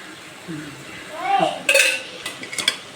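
A spoon stirs oil through cooked drumstick leaves in a pan, giving soft scraping and a few sharp metallic clinks against the pan, close and moderately loud with no talking.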